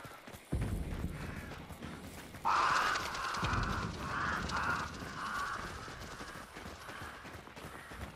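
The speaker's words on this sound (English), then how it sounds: "Four crows." Crows caw in a string of harsh, repeated calls in the game Hunt: Showdown, loud and fairly close, against a busy outdoor ambience with thudding steps.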